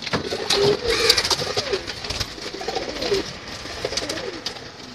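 Several pigeons coo nearby in a loft, soft throaty calls overlapping amid a faint background murmur.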